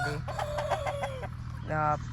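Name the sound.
rooster crowing and clucking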